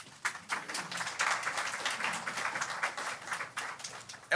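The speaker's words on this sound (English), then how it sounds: "Don't clap. No, don't clap." Audience clapping fills the room after a Northwestern football coach's post-Outback Bowl press conference, a steady wash of many hands at moderate distance, continuous for several seconds with no talk.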